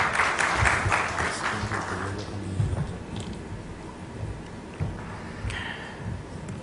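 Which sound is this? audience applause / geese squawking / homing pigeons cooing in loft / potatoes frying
audience applause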